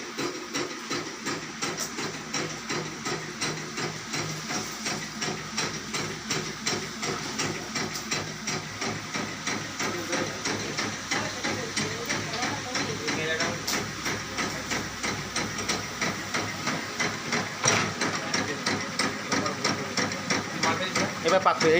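A batasa sugar candy making machine runs in training, giving a steady mechanical hum and hiss with a rhythmic thumping cycle throughout, while people talk over it.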